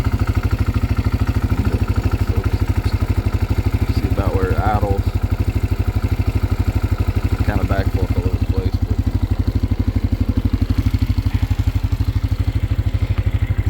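A 2025 CFMOTO CFORCE 600 ATV engine idles with a steady, loud, rapid low thrum close by, while someone talks intermittently over it.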